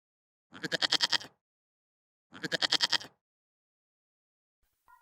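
A cartoon herd of goats bleats in two loud, close, wavering calls separated by a pause, followed by a faint short sound at the end.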